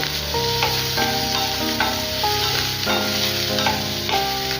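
Onions and garlic sizzle in hot oil and are stirred with a utensil for a masala mirchi curry, with steady loud frying and regular scraping strokes close up.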